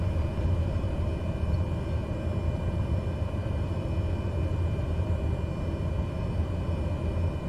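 Cessna 208B Grand Caravan in Microsoft Flight Simulator 2020 taxiing off the runway, its turboprop engine giving a steady, loud, dense drone with a low rumble and a faint high whine, continuous and unbroken.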